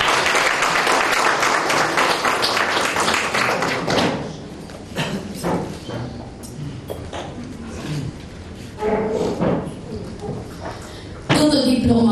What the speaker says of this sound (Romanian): Haideți să aplaudăm familia mea.